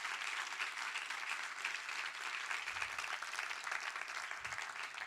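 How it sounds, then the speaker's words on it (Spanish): Church congregation applauding during a Spanish-language sermon, a steady, distant wash of dense clapping with no breaks, fairly faint throughout. "Dele aplauso al Señor"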